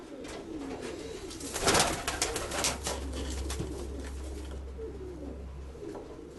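A young male pigeon in a breeding loft gives low, soft cooing murmurs, faint and close, with some rustling and a brief flurry partway through.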